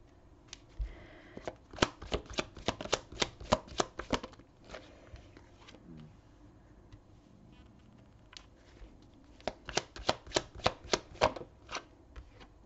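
Tarot cards shuffled by hand in two long runs of quick, crisp riffling taps, close and fairly quiet, with a short pause between the bursts.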